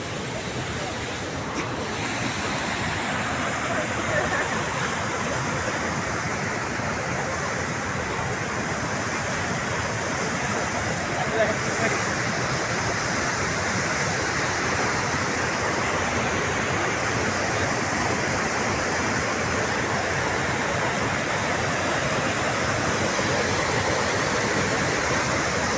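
Bhimakunda waterfall in Odisha, visited during the Makar festival, gives off a continuous, even roar of falling water with some wind buffeting. It stays steady and full throughout.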